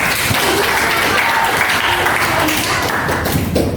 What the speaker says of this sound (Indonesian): tepuk tangan untuk si Raya Malika